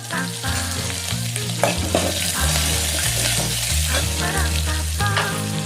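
Curry leaves dropped into hot oil for a Telugu buttermilk curry crackle and sizzle loudly and continuously, with stirring noise over steady background music.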